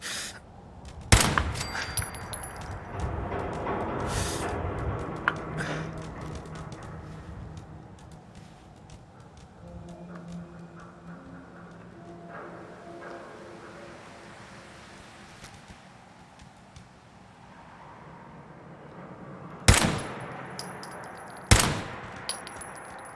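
Gunfire rings out in modded Fallout 4 as an enemy on a platform is picked off with a headshot. A few sharp, loud shots are spread far apart, with quieter ambient combat noise between them.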